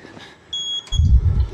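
A beeping electronic alarm from the Outlast horror video game, a few short high tones followed by a louder low rumbling thud near the end.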